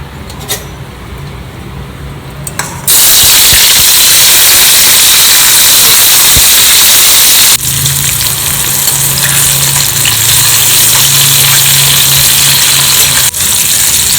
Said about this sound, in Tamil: இது 3த்தையும் நம்ம எண்ணெயில் வதக்கி எடுத்துக்க போகிறோம்